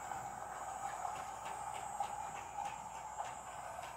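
Steady rattling hum of a small Hogwarts Express toy train running along its track, with faint rhythmic ticking clicks, moderately quiet and continuous with no voices.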